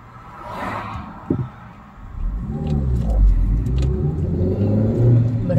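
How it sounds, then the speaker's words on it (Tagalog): Road traffic rumbles nearby in the Philippines as a car accelerates and revs past, loud and continuous, with a brief thump early on. "there is a lot of traffic"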